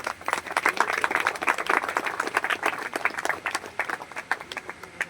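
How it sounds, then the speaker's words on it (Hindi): An audience claps loudly and steadily to welcome a guest at a public event attended by officials and former soldiers, dense applause filling the space throughout. "एक बार जोरदार तालियों से इनका स्वागत करेंगे।"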